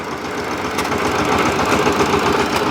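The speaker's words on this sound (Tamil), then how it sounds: "வெற்றிகரமாக வண்டி ஸ்டார்ட் பண்ணிட்டேன்" A farm vehicle's engine running steadily right after starting in a rural village field, a loud, close, rough idling chug with continuous knocking vibration and no talk over it.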